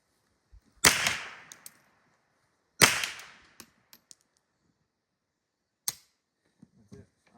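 Two loud sharp shots from a Ruger 10/22 .22 LR rifle, about two seconds apart, each with a short echoing tail outdoors, followed by a few faint clicks and a small distant pop.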